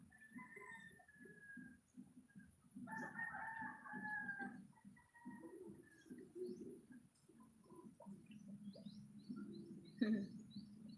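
Chickens cluck and murmur softly nearby while a rooster crows a couple of times, with other birds faintly calling in the background.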